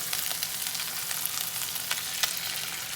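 Beaten egg fries in a hot pan for a late-night snack, giving an even, continuous sizzle with faint crackles and small stirring knocks throughout.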